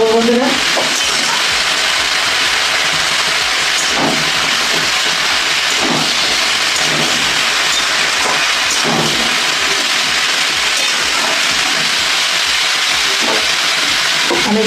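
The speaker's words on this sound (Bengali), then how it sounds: "এবার ফোড়ন আর আদা ভাজার সঙ্গে আদা বাটার সঙ্গে আমি সবজিগুলোকে ভালো করে ভেজে নেব" Vegetables frying with ginger paste and tempering spices in fish oil in a home kitchen, giving a loud, steady hiss and sizzle that runs unbroken, with occasional clinks of stirring.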